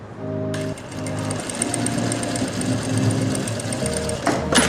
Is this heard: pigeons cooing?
no